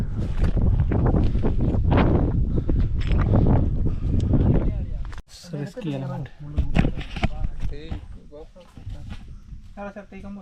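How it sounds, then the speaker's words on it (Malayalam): Strong gusting wind buffets the microphone with a loud rumbling roar, then drops away as people talk nearby. "ഇവിടെ നല്ല കാറ്റുണ്ടല്ലേ"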